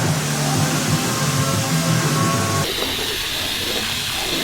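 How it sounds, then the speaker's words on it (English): Spray foam hisses steadily from a can as it is sprayed into gaps in a barn wall, a loud close continuous rush that shifts in tone partway through. "trying to be super conservative with how much I spray on each wall"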